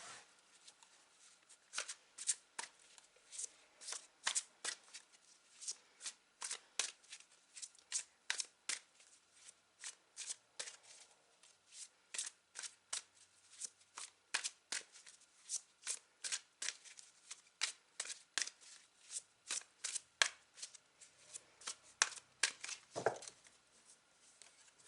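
Tarot cards being shuffled by hand, a long run of crisp riffling bursts in a steady, repeating rhythm, close and fairly quiet, with no speech.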